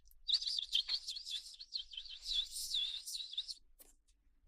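A person imitates bird chirping with the voice, producing a steady run of high, warbling tweets and trills up close, then falling silent.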